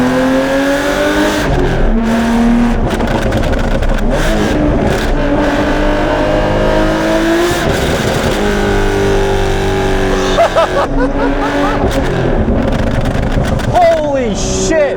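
A Porsche 911 GT3 Touring with a six-speed manual gearbox drives hard, its engine loud and close as it climbs through the revs, with rising and falling pitch across gear changes and people exclaiming over it.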